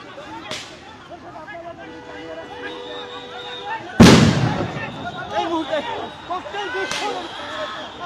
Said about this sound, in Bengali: সাউন্ড গ্রেনেড নিক্ষেপ করছে পুলিশ পরিস্থিতি নিয়ন্ত্রণ জানতে